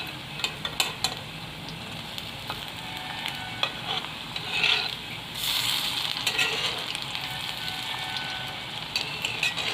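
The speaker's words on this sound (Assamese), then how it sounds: "এনেদৰে এটা সাইড ভালকৈ ভাজিব দিম ৰঙা পৰালৈকে" Aloo pakoras fry in hot oil with a steady crackling sizzle, occasional sharp pops and light clinks of a utensil stirring, close and continuous.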